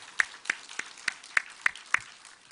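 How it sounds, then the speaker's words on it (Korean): A church congregation claps during a Sunday morning worship service, seven sharp, evenly spaced claps ringing out one after another, fairly close and clear, with no voices. "우리 살아계신 우리 하나님께 영광의 박수를 다시 한번 돌리겠습니다."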